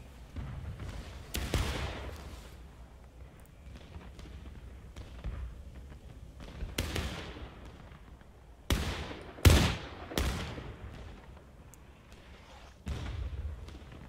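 Sharps rifle shots in the Civil War game War of Rights, several loud booming reports spaced irregularly over a background of distant battlefield gunfire and rumbling, with some quiet speech.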